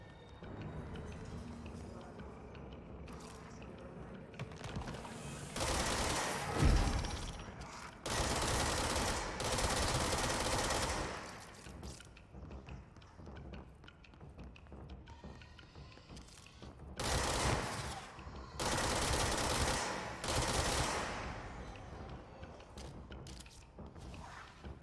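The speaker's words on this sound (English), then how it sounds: "The range on this version of the gun sucks." Bursts of gunfire from a weapon in the video game Control, several heavy rapid volleys separated by quieter gaps under a low game ambience, fairly loud and close.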